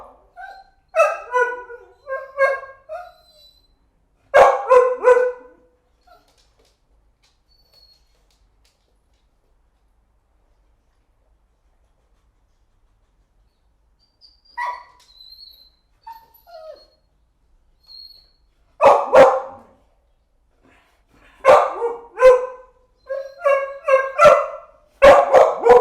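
A dog barks and yips in short clustered bursts, protesting as it tries to get out, with long quiet gaps between the outbursts and the barking growing more insistent toward the end.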